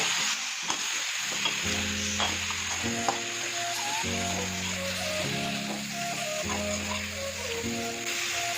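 Meat fries in a pan over a medium gas flame, giving a dense, continuous sizzle and crackle close to the microphone, with a low tonal hum running underneath.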